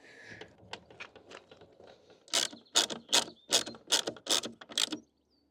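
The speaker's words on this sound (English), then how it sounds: "I've put one screw in just to make sure I'm safe. I'll just get the next one in." A screw is driven into the frame of a VW Scirocco wing mirror: soft scattered clicks give way to a regular run of sharp, close ratcheting bursts that stop abruptly.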